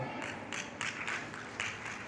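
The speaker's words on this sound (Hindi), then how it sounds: "जोरदार तालियों के साथ" Applause at a tree-planting and environmental gathering in India: steady, moderately loud crowd clapping heard from a distance throughout, with slight surges, and no voices over it.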